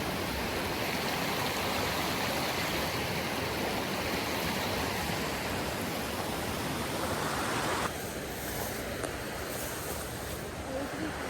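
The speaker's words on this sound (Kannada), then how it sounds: "ತುಂಬ ಚೆನ್ನಾಗಿದೆ, ಫ್ರೆಶ್ ನೀರು ಬರ್ತಿದೆ." A cold freshwater stream runs steadily outdoors on a rainy-season morning, producing a constant broadband rushing that stays loud and unbroken, easing slightly near the end.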